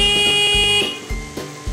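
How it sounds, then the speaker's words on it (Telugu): A vehicle horn honks on a street while riding slowly near school children, with one loud sustained blare followed by several short, sharp toots, close and clear. "హార్న్ కొట్టు"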